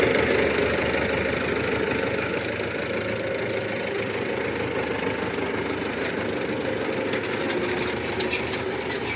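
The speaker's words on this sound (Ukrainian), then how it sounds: "Приїхав ще один трактор" A tractor engine idles steadily and close by, a continuous low rumble with a faint knocking texture that holds even throughout.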